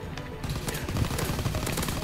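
Rapid bursts of gunfire from a shooter video game, dense overlapping shots in a steady loud barrage throughout with no voices.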